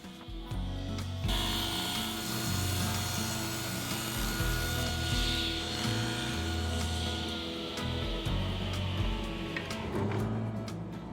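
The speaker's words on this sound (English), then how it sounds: "I've set the fence at 11/16 to rip the molding to size" A table saw rips wood molding to size along a fence, the blade droning loud and steady throughout with a rough cutting rasp layered over the motor hum.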